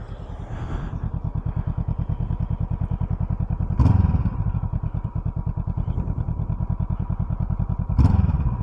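A Honda CL500 motorcycle engine runs at a steady, close idle with a fast, even pulse throughout, and two brief louder blips from light throttle stand out.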